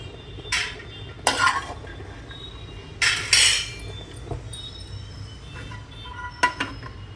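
Roasted peanuts scraped out of a pan with a metal spoon, a few sharp clinks and scrapes spaced out over a low background hum, close and fairly quiet.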